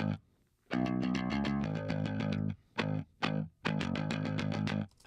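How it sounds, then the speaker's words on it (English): A bass track with a stereo chorus effect plays alone, a run of close, shimmering, chorused notes broken by short gaps. "And that stereo effect alone sounds like this."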